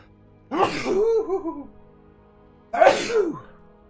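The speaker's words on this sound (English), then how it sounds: "I gotta sneeze though" Two sneezes close to the mic, each a sharp inhaled build-up bursting into a loud expulsion, separated by a couple of seconds of quiet.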